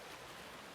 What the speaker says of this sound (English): I've never seen the river this high